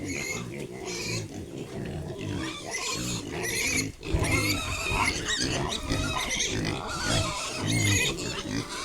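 Hungry native piglets grunting steadily in a pen at feeding time, a dense, continuous chorus of close, overlapping oinks and squeals with a person talking over them.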